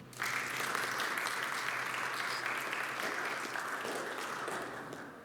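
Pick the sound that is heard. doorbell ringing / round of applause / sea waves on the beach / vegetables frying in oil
round of applause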